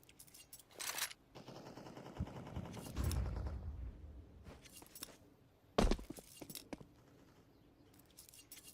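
Gunfire from a Counter-Strike 2 match in a CCT Europe tournament broadcast, scattered bursts and single sharp shots at moderate distance with quieter footsteps and movement between them.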